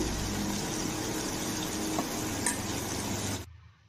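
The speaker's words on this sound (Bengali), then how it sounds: "2 চামচ সাদা তেলের মধ্যে মিষ্টি কুমড়া ভেজে নিচ্ছি" Pumpkin pieces frying in two spoons of white oil with salt and turmeric, a quiet steady sizzle with a couple of faint stirring clinks, fading out at the end.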